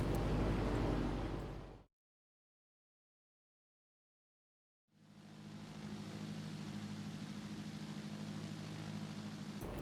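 A Piper Arrow III in Microsoft Flight Simulator taxis onto the runway, its engine a steady, broad drone that cuts out for about three seconds of silence, then resumes evenly.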